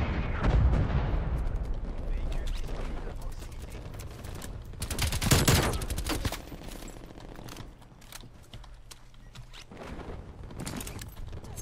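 Heavy, chaotic gunfire in Call of Duty Black Ops Cold War, in a crowded match of about forty players: dense overlapping shots and booming blasts roll on continuously, loudest near the middle, while someone talks over the din.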